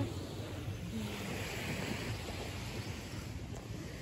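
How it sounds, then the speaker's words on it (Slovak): Sea waves wash steadily onto a beach in Thailand, a continuous broad surf roar with light wind noise across the microphone, no voices. "Tam je more."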